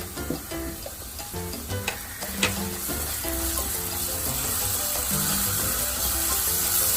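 Onions and ginger garlic paste frying in a pan for Goan croquettes, a continuous sizzle rising gradually over several seconds, with a few clinks of utensils near the start and pitched kitchen tones running underneath.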